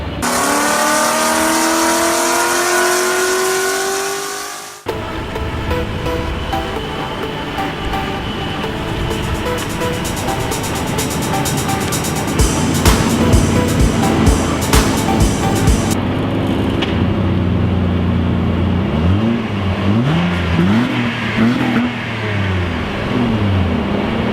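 A loud, continuous roar of a 2014 Honda Accord engine with a Magnaflow exhaust revving up and down, with rushing noise and shifting pitch throughout, no talking.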